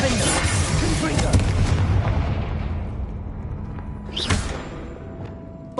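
A Confringo spell blast goes off in the Hogwarts Legacy video game, a loud booming explosion with rumbling decay and further bursts of gameplay impact sounds.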